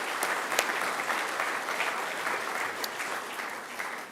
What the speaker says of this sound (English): I ask you to give them a round of applause too